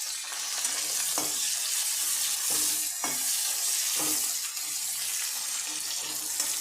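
Green chilies, curry leaves and onions frying in hot oil in a home kitchen pan, a steady close sizzle with a few soft stirring scrapes, and no talking.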